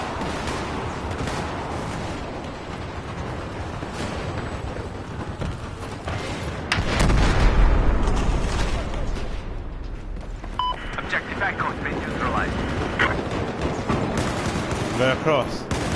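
Battlefield 4 combat gunfire rattles in dense, continuous bursts with a heavier thump midway, mixed with distant booms and game chatter throughout.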